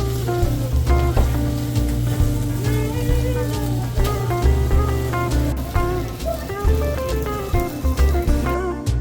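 Mushrooms sizzle steadily in a hot pan as already-cooked onions are added, with a dense, continuous crackle broken by scraping and clinking, close up and with no talking.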